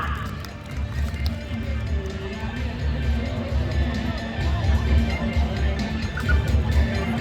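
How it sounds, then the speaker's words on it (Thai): Audience clapping welcomes an award presenter at a village beauty pageant in Khao Suan Kwang, a sustained rustling patter of many hands under crowd murmur. "ขอเสียงปรบมือต้อนรับผู้มอบรางวัลอีกครั้งหนึ่งค่ะ"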